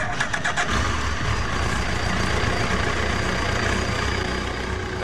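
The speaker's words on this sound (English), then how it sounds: "So when I authenticate, the bike powers up." A motorcycle with an RFID-implant ignition cranks with a brief rattle, catches, then settles into a steady, close idle.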